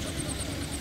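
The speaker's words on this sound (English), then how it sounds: "coming across us now, a 4-inch McLaren road locomotive" A 4-inch McLaren steam road locomotive with a twin compound engine, finished in 2011, passes at a Dorset steam rally with a steady low mechanical chug and rumble. A faint high whistle-like tone repeats above it.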